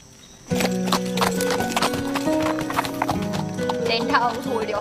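Horse hooves clip-clop steadily close by, with a neigh or whinny and a voice talking over the riding sounds throughout.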